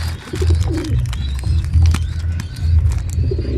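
Pigeons coo close by in a steady series of low, throaty rolling calls, overlapping one another with faint background rustle.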